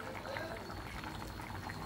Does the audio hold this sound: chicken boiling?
yes